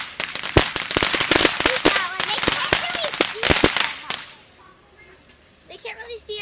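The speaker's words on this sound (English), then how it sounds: "I'm taking a video of the fireworks so you can watch it forever." Fireworks at an outdoor show go off as a rapid, loud barrage of sharp cracking bangs and whistles for about four seconds, then a quieter lull follows with a few faint pops and people talking.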